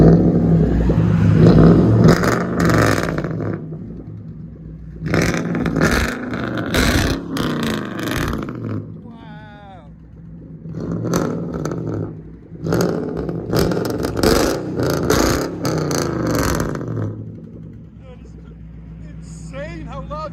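A straight-piped Infiniti M45 V8 revs in repeated loud bursts close by, each surge rising and dropping back to a rumbling idle, with voices talking between the revs.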